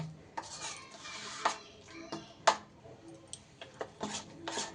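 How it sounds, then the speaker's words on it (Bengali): A spoon or whisk works through a batter of raw chickpeas and sour yogurt in a bowl, making soft wet stirring sounds broken by sharp clinks against the bowl at irregular intervals, close and fairly quiet. "খুব ভালো করে এটাকে ফেটিয়ে ফেটিয়ে এইভাবে মিশিয়ে নিতে হবে"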